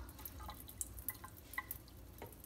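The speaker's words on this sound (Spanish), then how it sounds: "Le escurro bien el agua." Water drips and trickles off washed pork liver as it drains in a kitchen, a scattered series of faint small drips and splashes with no voices.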